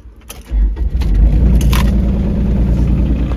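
A vehicle engine cranks and fires on a frozen winter morning, a few keys jingling first, then settles into a steady loud idle to warm up, close by.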